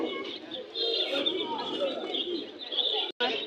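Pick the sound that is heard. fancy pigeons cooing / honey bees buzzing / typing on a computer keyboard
fancy pigeons cooing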